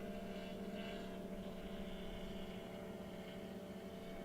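A drone flies overhead at the SpaceX launch site during testing of Ship 37 on the launch mount, giving a faint, steady buzzing hum that holds without a break.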